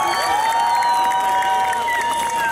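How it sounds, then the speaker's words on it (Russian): A large crowd at the opening of the Confederations Cup fan park in Kazan cheers and applauds the visiting football stars, a loud continuous roar with whistles and shouts rising over dense clapping. "чтобы вы теплом и аплодисментами поприветствовали наших дорогих гостей"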